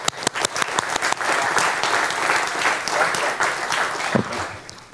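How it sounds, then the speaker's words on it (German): Audience applause fills a Linux-Tage conference hall after a talk on game development, loud and continuous for several seconds with dense clapping, a few sharper claps at the start, then tapering toward the end. "großen Applaus nochmal an die Linux-Tage"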